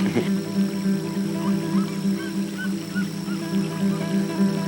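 Birds wake at dawn on an ecological farm near Bonito, Brazil, giving honking, goose-like calls over a steady low drone and faint background chatter of other birds.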